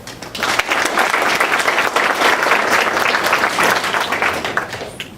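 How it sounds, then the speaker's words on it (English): A university audience at Cal Poly gives a big, sustained round of applause for speaker Christina Sommers, thick, even clapping with a faint crowd murmur that stays loud and close for the full five seconds. "Please give a big round of applause for Christina Sommers"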